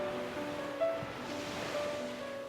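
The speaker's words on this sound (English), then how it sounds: "Walk towards the shore and stop just as the breaking waves rush over your feet." Ocean waves breaking and rushing up a shore, a steady broad wash of surf with a slight swell partway through, close and continuous, with no voices.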